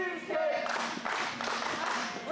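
Wrestling crowd at a New York Championship Wrestling women's title match clapping and cheering for Corinne Mink against Anastasia Morningstar, a steady wash of applause and crowd noise with an announcer's voice running over it.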